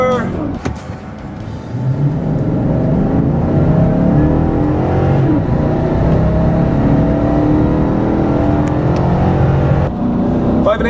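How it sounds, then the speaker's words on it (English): A 2014 Chevy Silverado pickup truck engine revs hard under full throttle to about 5,500 RPM, its pitch climbing steadily and staying loud and sustained for about ten seconds, with some wind-like whir. "Give the engine a little bit of gas and let go. There we go, full throttle."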